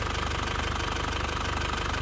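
A warmed-up diesel engine of a 2005 Isuzu Panther Grand Touring idles with a steady, rapid knocking pulse, loud and close throughout, with no voices.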